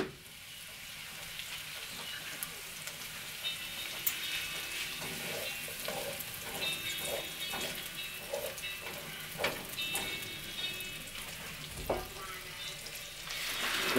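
Onion, carrot and venison fry in butter with a soft, steady sizzle and occasional light clinks and stirring sounds, fairly quiet with no voice over it.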